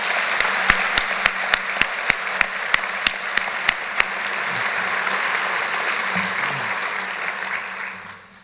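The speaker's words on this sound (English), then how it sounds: "A round of applause, please." An evening audience at a formal event gives a round of applause, dense clapping with a run of sharp, evenly spaced claps up front that thins and fades toward the end.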